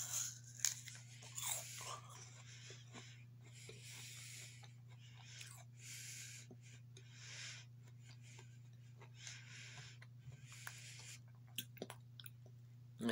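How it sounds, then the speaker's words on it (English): Close, crisp crunches of biting into and chewing a Spartan apple, with repeated munching bursts over a steady low hum and no talking. "There's a bit of a crunch on the bite. That's also another trademark of Spartan apples."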